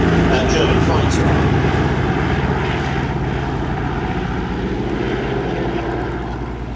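Piston engines of a PBY Catalina patrol bomber at a Navy airshow drone loudly and steadily, a dense propeller roar that fades slightly toward the end.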